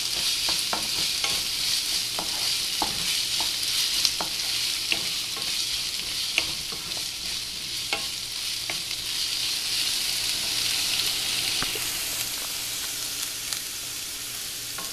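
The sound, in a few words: onions sautéing and being stirred in a pan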